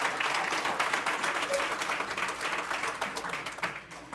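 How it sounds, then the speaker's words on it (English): Audience applause at a powerline technician graduation ceremony, a dense, steady clapping from a crowd that carries on for several seconds and slowly thins toward the end. "Big round of applause to our linemen."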